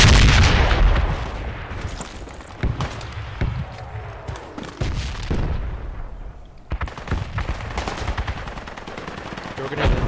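Machine gun fire rattles in the military shooter Project Reality, with dense, heavy bursts and booming shots. It is loud and near at first, then comes in choppy volleys with brief lulls.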